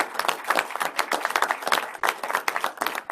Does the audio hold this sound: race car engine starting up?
no